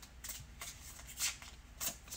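A deck of cartomancy cards is shuffled by hand in several quick, soft riffling bursts, close and quiet, with no talk over them.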